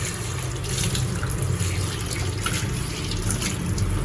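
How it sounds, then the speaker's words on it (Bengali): Tap water runs in a steady, splashing stream at a kitchen sink as prawns and pomfret are rinsed, a close, continuous rush with no voices. "মাছগুলো ধুয়ে নিই।"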